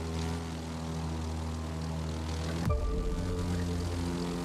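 A propeller airplane in The Crew 2 video game drones steadily and loudly, and its engine pitch drops sharply partway through before settling into a lower hum.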